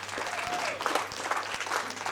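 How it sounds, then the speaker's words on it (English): Crowd applause at the final of a Masters teams billiards match between Victoria and South Australia at a national championship, a steady, fairly distant wash of clapping that carries on for the whole stretch. "One more big round of applause for a great final between these two great rivals"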